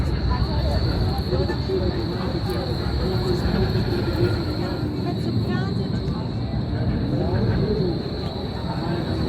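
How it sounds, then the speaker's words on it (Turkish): A tram passes along a Berlin street with a continuous loud, close rumble and whine of steel wheels on rails and a steady high tone. People talk over it the whole time. "Ortadan şeýle tramvay geçýär."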